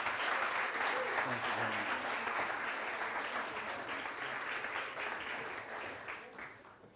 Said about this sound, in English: welcome him with a warm round of applause, Joel Salatin.